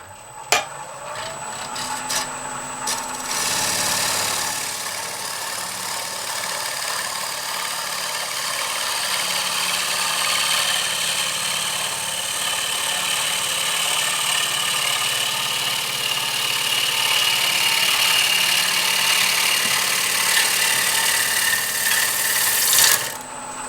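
A wood turning gouge makes a roughing cut down the outside of a bowl on a lathe, a loud steady hissing cut over the motor's hum, continuous for about twenty seconds and ending with a brief knock.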